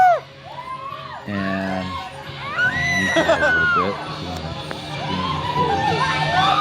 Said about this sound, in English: Who doesn't like screaming kids, right?